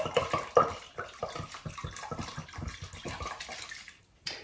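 Water splashes into a cooking pot in a home kitchen, a short close pour with an uneven gurgle that fades, then a brief final splash, no talking.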